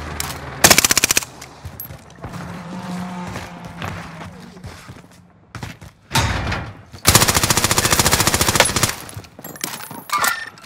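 Loud machine-gun fire in the Call of Duty: Modern Warfare video game comes in rapid sustained bursts, with quieter stretches of battlefield noise between volleys.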